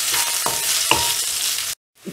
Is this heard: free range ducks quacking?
no